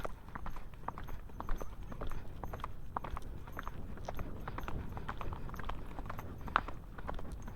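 Pony hooves clip-clopping along an outdoor trail in a steady walking rhythm, fairly faint and continuous, with a few quiet voices in the background.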